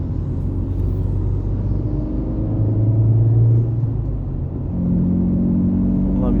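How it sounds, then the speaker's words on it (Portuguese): Ford Focus fitted with dual throttle bodies cruising on a highway in fifth gear, a steady low engine drone and road rumble throughout, with a slight swell in the middle and a tonal rise near the end. "Vamos ver na rodovia aqui, encaixando uma quinta marcha."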